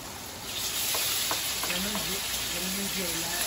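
Chopped tomatoes drop into a hot pan already frying onions and hiss into a steady, loud sizzle, with some stirring and a voice talking faintly over the cooking.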